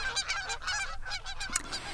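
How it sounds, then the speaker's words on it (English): A flock of geese honks continuously, overlapping calls coming thick and fairly close, with no other sounds. "Feathery, flapping flocks of honking geese who would circle and land for a splash every afternoon."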